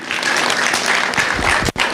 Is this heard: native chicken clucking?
no